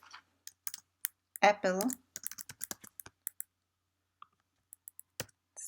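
Typing on a computer keyboard while writing Python code, quick irregular clacks and taps scattered through the clip, alternating with a voice speaking and short pauses.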